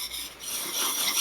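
A wood carving gouge is rubbed in circular strokes on a sharpening stone, producing a soft, close, continuous gritty rasp with no talking.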